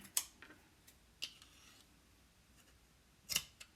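Scissors trim paper up close in a quiet room. A few sharp, separate snips come at the start, in the middle and near the end.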